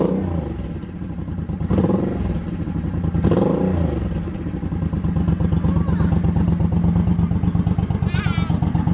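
Suzuki Boulevard motorcycle with a Jardine exhaust idling and revving close by, with a steady low rumble, a couple of throttle blips swelling and dropping, and light mechanical clatter.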